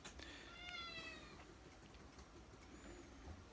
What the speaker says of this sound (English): the tuxedo cat is so very, very chatty these days